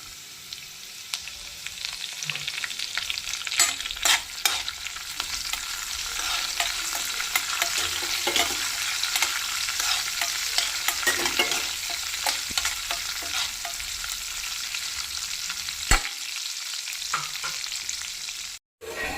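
Curry leaves frying in hot oil for a Chennai-style Pongal sambar, a steady bright sizzle with crackles and occasional stirring clatter, close by and without voices, ending in a brief pause near the end.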